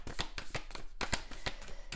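Playing cards being shuffled at a tarot or card-reading table, heard close up as a quick run of crisp riffling snaps in a steady rhythm, with no talking over them.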